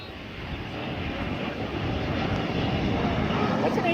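A Boeing 787 Dreamliner passes overhead on its landing approach, a broad steady jet roar that swells slightly louder, with voices faintly mixed in.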